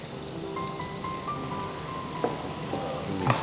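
Green chilies with a pinch of salt sizzle and crackle steadily in a hot pan, a continuous frying hiss with a few sharper pops, no talking.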